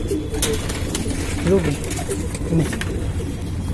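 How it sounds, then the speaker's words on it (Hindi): A male pigeon kept at a home loft in Lucknow gives a couple of low, throaty coos, close by over a busy background murmur. "ये नर है कबूतर"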